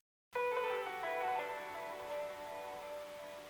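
A world-instrument chorus sample starts abruptly after a brief silence, a soft tonal swell of layered voices that fades into a long, ringing delay tail, quiet and alone.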